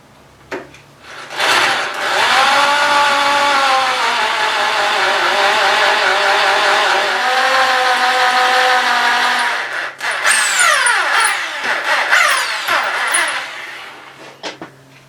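A drill boring out a bolt on a Suzuki Hayabusa motorcycle with a 6mm bit, a loud steady whine held for about eight seconds, then shifting pitch in rising and falling sweeps before stopping.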